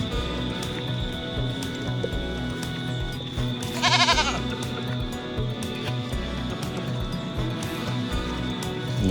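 A single goat bleat, loud and wavering, rises briefly over steady outdoor ambience with distant insect-like hiss, on a bush farm in Jamaica.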